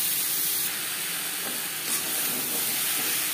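Raw mango pieces fry with salt and turmeric in a pan, a dense, steady sizzle and hiss filling the whole stretch at close range, with no voices.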